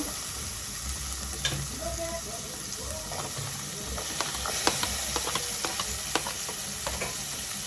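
Chopped onion fries in hot oil in a pan with a steady close sizzle and hiss, broken by scraping stir strokes and small pops throughout.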